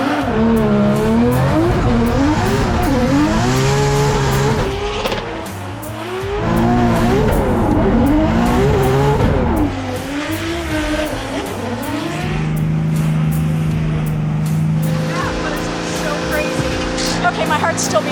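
A race car on a ride-along runs hard the whole way, its engine revving up and down through repeated gear changes with tire squeal, loud and close, under a nearly continuous music bed.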